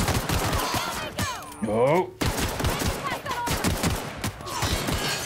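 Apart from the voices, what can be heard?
rifle gunfire in video game The Outer Worlds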